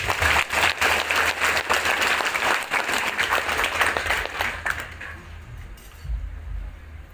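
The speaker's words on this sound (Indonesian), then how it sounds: "Mungkin untuk ini kita bisa tepuk tangan untuk Ibu Laras." An audience in a church at a priest's golden jubilee Mass claps in a dense, loud burst that lasts about five seconds, then fades to quiet room noise.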